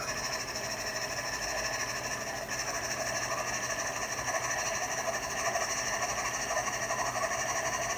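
A Stuart S50 steam engine on a steam plant at about 17.5 PSI runs with a steady rhythmic chuffing and hiss, even and continuous, with mechanical clatter and no voices.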